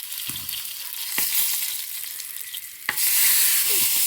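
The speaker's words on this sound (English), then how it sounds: "Oh yeah, exploding sausage." Sausage sizzling in a pan over a campfire, a steady frying hiss with a few soft pops, then a sharp burst as the casing splits and the sizzle swells louder, close by with no talk.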